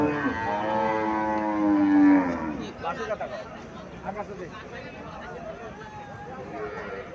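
A Haryana cow on a farm lets out one long, loud moo lasting about two seconds, followed by people talking nearby.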